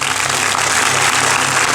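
Loud, continuous applause from a cinema audience at a film premiere greets the director, a thick crackle of many hands clapping at once.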